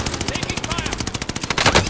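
Rapid, loud automatic gunfire rattles in a steady stream of closely spaced shots in the video game Call of Duty Modern Warfare, ending in a heavier burst.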